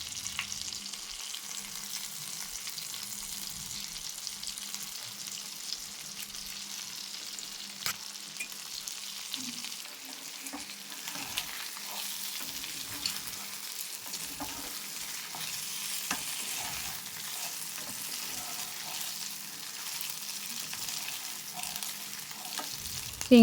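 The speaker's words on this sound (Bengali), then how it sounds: "চিংড়ি মাছগুলো ভাজা হয়ে গেছে" Prawns fry in a pan with a soft, steady sizzle and occasional light stirring scrapes, heard close but fairly quiet, with no voices.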